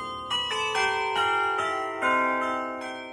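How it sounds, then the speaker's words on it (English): Large swinging bells in a carillon ring out in a sequence of overlapping strikes, each tone sustained and slowly decaying beneath the next, clear and resonant with no voices. "Now, this is only one way that the bell can be rung."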